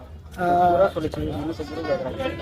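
Goats at a livestock market bleat in loud, wavering cries, a strong call up close followed by shorter overlapping bleats, with market chatter underneath.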